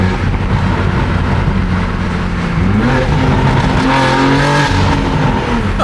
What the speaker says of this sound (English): the exhaust noise.